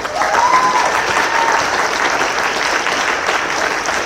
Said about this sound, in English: I just want to give this entire panel another huge round of applause.